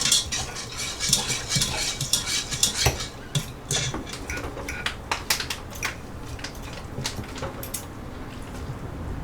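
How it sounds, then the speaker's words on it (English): A whisk clicking and scraping fast against the pot as cheese sauce melts for pressure cooker ranch chicken and pasta: close, busy metallic taps in bursts, louder at first and then settling, with no talk. "I'm just going to whisk it until it melts"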